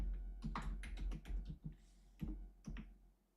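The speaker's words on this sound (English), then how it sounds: "My keyboard sound's still coming through." Computer keyboard typing close to a microphone: a brisk, irregular patter of clicky keystrokes with short pauses, fairly quiet and with no voices.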